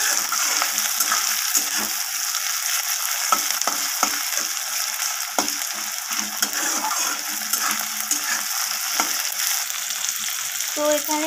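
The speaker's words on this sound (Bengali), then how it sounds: "টমেটো কুচিটা দিয়ে আলু পেঁয়াজের সাথে এইভাবে ভালোভাবে ভাজা করে নেব" Chopped tomato fries with potato and onion in a pan, giving a close, steady sizzle broken by frequent clicks and scrapes of stirring, with no talking.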